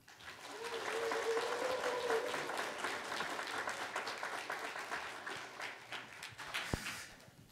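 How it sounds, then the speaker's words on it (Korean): An audience applauds to welcome a speaker to the stage, a dense, sustained wash of many hands clapping that swells quickly, holds steady and slowly thins out, with a short sung or hummed tone early on. "단위에 등단하실 때 감사의 큰 박수 부탁드리겠습니다"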